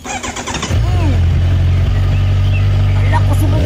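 A motorcycle engine cranks with a few quick sputters, then catches and settles into a loud, steady, close-up running rumble with a slight rev, while a person's voice is faintly heard at times.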